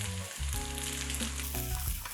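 Chicken fried rice, seasoned with salt, pepper and soy, sizzles loudly in a hot pan as it is tossed, a brief close burst of frying with stirring scrapes.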